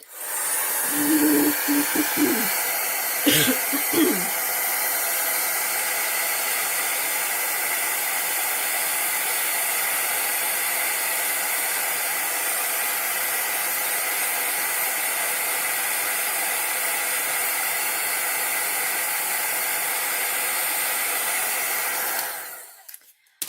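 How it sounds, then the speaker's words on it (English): A heat gun blows a steady, loud hiss for about twenty seconds while drying ink on a paper craft, starting after a few brief handling knocks and cutting off abruptly at the end. "I'm going to use my heat gun just to dry this ink."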